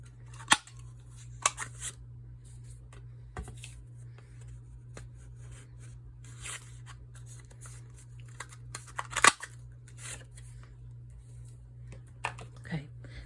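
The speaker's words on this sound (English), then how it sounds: "The way these punches work, you slide it all the way in and you punch." A paper punch cuts through cardstock tags, giving a few sharp, close clicks and crunches scattered among softer paper shuffling and handling noises over a low steady hum.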